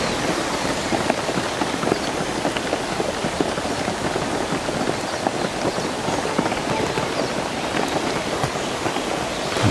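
Automatic sprinklers spraying water in half-circle arcs over bonsai trees outdoors, a dense, steady patter like heavy rain hitting leaves and surfaces, loud and continuous with no speech.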